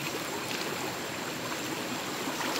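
A river in flood rushes past, its dense, steady roar of flowing water continuous and close, with no voices over it.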